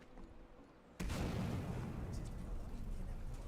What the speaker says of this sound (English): Damn, she's shooting fire bolts.